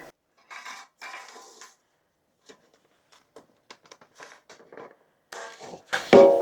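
A 9-inch springform pan being fitted back together for a cheesecake, with several short metallic clinks and scrapes in separate bursts, then a louder clatter at the end.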